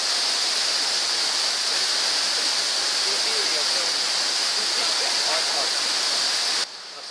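St Nectan's Glen waterfall in Cornwall pours steadily in a continuous broadband roar, close and loud, with faint voices beneath before the rush cuts off abruptly near the end.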